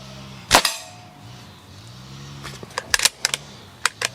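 Air rifle pellets in 4.5 and 6.35 mm calibre, 20 joules, striking a metal target on its stand near the edges: a sharp metallic smack first, then after a pause a quick irregular cluster of several clanks, alone without talk.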